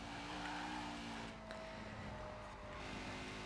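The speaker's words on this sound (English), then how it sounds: "See it struggling for grip, just bouncing around in the rev range, especially up top." A Porsche 356 RSR in Forza Horizon 4 with its engine bouncing around high revs while the tires squeal and scrabble for grip, steady and fairly quiet throughout.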